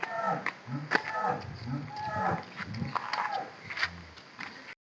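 HF cross dairy cows at a village sale at Gudi Mamidipalli moo repeatedly, several deep lowing calls overlapping at moderate distance amid faint yard noise, with no speech.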